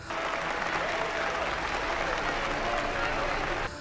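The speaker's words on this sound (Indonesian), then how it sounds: "Pidato menggelegar dari sang pendeta pun mendapat tepuk tangan meriah" A crowd applauds loudly after a preacher's thundering speech, a dense sustained roar of clapping that holds steady and then stops abruptly.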